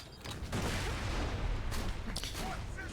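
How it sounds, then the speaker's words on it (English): Sniper rifle fired from the hip in a game, a loud burst of shots opening into a dense, sustained roar of gunfire and game noise. "Go ahead and take him out with the hip fire."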